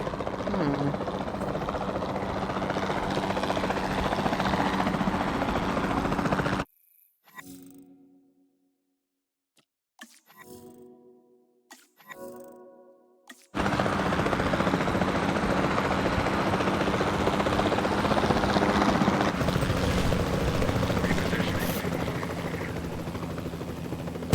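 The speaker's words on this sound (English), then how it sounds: "Then the sensible thing is to take a capture team helicopter." A capture team helicopter in the video game Jurassic World Evolution 2 flies with a loud, steady rotor drone. The drone cuts out for several seconds, leaving brief voice fragments, then returns at full strength.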